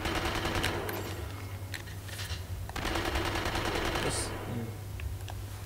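Enemy gunfire in a video game crackles in rapid, dense bursts of shots over a constant low drone, with people talking in between.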